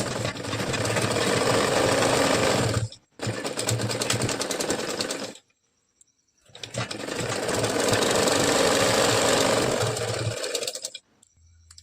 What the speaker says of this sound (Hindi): अब इसके ऊपर सिलाई चलानी है।